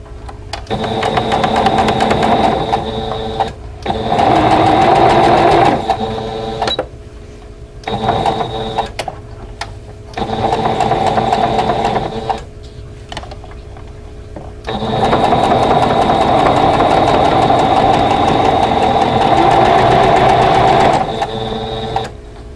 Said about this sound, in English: then I'll sew the other section onto it